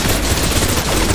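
A loud, continuous stream of suppressive automatic gunfire in the shooter game Snowbreak: Containment Zone, rapid shots packed tightly through a brief second-long burst.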